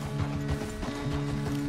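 Hooves of a ridden horse clip-clop in a steady, even rhythm, moderately close, with a constant low hum underneath and no talking.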